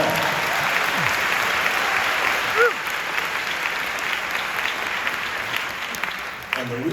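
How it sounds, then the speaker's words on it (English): Sustained audience applause fills a large room during a talk by an astronaut, steady and dense throughout with a few cheers rising above the clapping. "We're not going, you can clap on that,"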